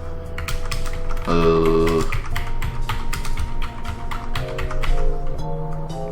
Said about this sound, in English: I've hit every key on my keyboard